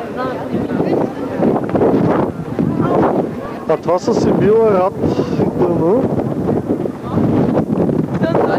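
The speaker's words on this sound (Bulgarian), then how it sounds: "Вятър издухва оператора." Strong wind buffets the camera microphone outdoors, a loud, continuous rumbling roar with gusty surges, while people talk over it.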